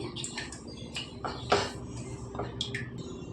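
A spoon clinks and scrapes against a vessel while lemon juice is mixed into cooked rice for lemon pulihora, with several light, irregular metallic taps and scrapes close by and no talking.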